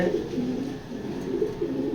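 Racing pigeons coo in soft, repeated low throaty phrases close by, with a steady murmur of several birds overlapping and no one talking.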